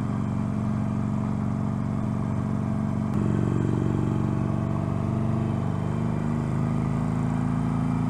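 Steady, continuous engine drone of a Harley-Davidson Iron 883 cruising, a low even rumble with a slight lift in tone partway through, no voices.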